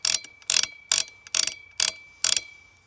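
Adjustment nut being turned on a Matador Arms Regulator rifle muzzle brake, six crisp ratcheting click bursts at an even half-second rhythm, close and loud with no talk.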